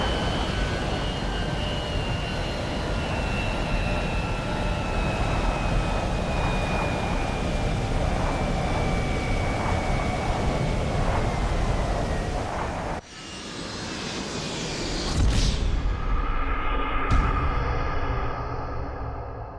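A plane in GTA 5 roars steadily toward the Alamo Sea, then cuts off abruptly into a crash and splash, followed by sloshing water and quieter tones as the cutscene settles.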